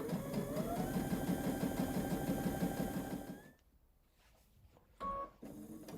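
Domestic sewing machine stitching binding onto a quilt, a steady rapid mechanical whir for about three seconds, then it stops, leaving quiet with a brief short hum and faint handling near the end.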